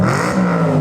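An Audi RS5 with a newly fitted exhaust revs inside a tunnel, giving a loud, close, sustained engine roar that climbs in pitch through the short burst, with no talking.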